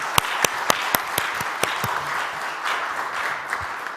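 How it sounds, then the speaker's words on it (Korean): A church congregation at a Sunday worship service breaks into applause, opening with a few sharp, separate claps that quickly swell into steady group clapping of moderate loudness. "우리 큰 박수 한번 날까요?"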